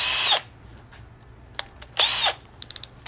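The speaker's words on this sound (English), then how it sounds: "I'm gonna drill a hole." A power drill whirs in two short bursts through cherry and walnut wood, separated by quiet, followed by a few small clicks and taps.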